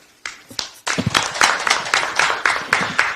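A ceremony audience celebrating the launch of Gangwon Special Self-Governing Province breaks into clapping after a brief hush, quickly swelling into loud, close, rhythmic bursts of applause that keep a regular beat.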